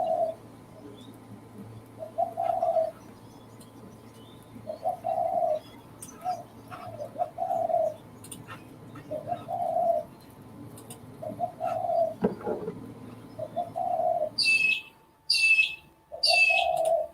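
Recorded calls of pigeons or doves, then squawking magpies, played back: a steady run of soft repeated coos over low background hum, ending in a few loud, sharp, high squawks.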